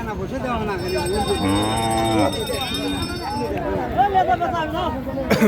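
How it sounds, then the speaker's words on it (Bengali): A bull calf moos loudly and repeatedly at a busy cattle market, drawn-out bovine calls close by, with crowd chatter and a voice in the background. "ষাঁড় বাছুর।"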